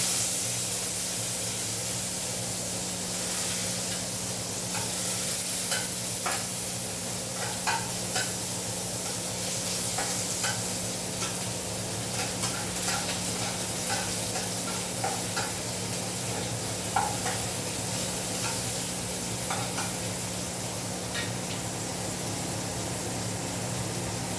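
Onion and garlic sizzle steadily in a hot pan, with a dense, even crackle and faint scrapes of stirring running throughout and no voices.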